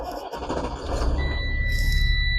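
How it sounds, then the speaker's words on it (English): A tractor trailer truck's engine cranks and starts, settling into a loud, steady diesel rumble with a high whine running through it during a Class A pre-trip inspection. "Now, start the vehicle back up."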